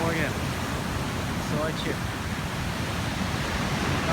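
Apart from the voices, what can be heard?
stormy sea waves at Sochi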